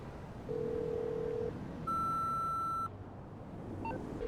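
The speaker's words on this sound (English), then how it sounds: "Sometimes the line is busy." Busy signal on a phone call in the GTA Online video game: a single steady electronic tone lasting about a second, then short beeps, faint and alone on a quiet line.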